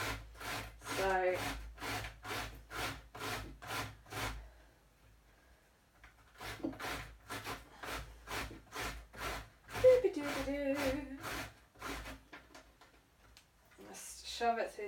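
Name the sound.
courgette being coarsely grated on a pyramid grater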